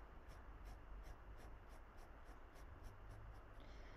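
Steady scratchy strokes of a pen on paper, repeating in a quick, even rhythm against a low background hum, close and moderately quiet.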